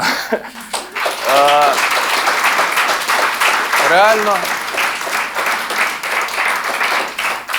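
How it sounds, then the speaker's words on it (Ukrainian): A stand-up comedy crowd breaks into sustained applause that swells and holds for several seconds, with scattered cheers and a short spoken word near the start. "Вам цього достатньо, щоб отак аплодувати."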